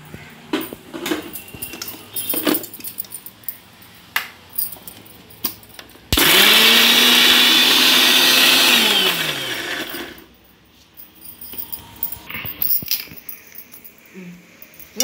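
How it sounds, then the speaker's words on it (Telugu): A kitchen mixer grinder whirs loudly for about four seconds, blending garlic cloves with other ingredients, with a steady motor hum that drops in pitch as it winds down, framed by clinking utensils before and after. "ఇప్పుడు మిక్సీ తిప్పుతా"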